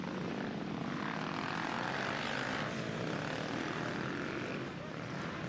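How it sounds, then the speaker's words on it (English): A Fox FPV drone flies over an offroad motorcycle race track at Southwick, making a steady, loud buzzing propeller whine that holds for several seconds without a break. "The Fox FPV drone. Unk knows what this sound is."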